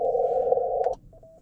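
A Morse code sidetone from an amateur radio station at a park activation, one long steady beep that cuts off, followed by a few short faint tones.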